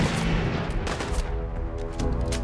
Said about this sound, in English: People are shooting up there